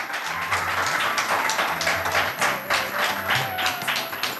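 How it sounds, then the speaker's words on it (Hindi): An audience claps together loudly at a spiritual class gathering, a dense, sustained patter of many hands that carries on without pause and sits over a low, steady musical background. "बजाओ जोर जोर से ताली"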